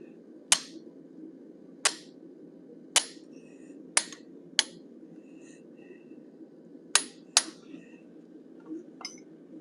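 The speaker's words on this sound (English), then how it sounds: "I'm using a small curved chisel to do the front of his mouth" A hammer strikes a small curved steel chisel while a cougar head is forged, about nine sharp metallic taps at an irregular pace, close and clear over a low background hum.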